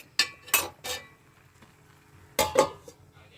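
A metal lid is set on a cooking pot of simmering curry, giving three quick clanks, a pause, then two more bright metallic clinks close by.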